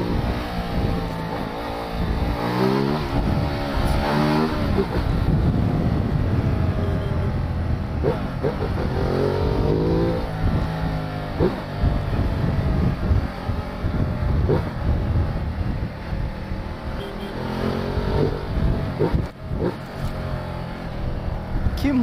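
A loud Ducati 1200cc motorcycle engine revs and roars continuously, rising and falling in pitch as it accelerates, with a heavy rumbling drone throughout.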